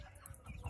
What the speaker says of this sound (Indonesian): Tuh, lihat ayamnya teman-teman.